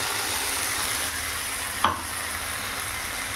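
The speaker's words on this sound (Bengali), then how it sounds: "মশলাটা দিয়ে আমরা আলু আর কুমড়োটা ভালো করে কষে নেব" Potato and pumpkin with ground spice paste and soaked chickpeas sautéing in a pan, an even close sizzle with one sharp stirring scrape midway, no voices.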